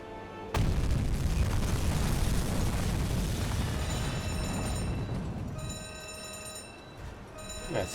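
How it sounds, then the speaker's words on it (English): Torpedo hitting a ship in a U-boat video game: a sudden loud explosion that booms and rumbles for several seconds, then fades under tonal alarm-like game sounds. "That's one good hit with a torpedo."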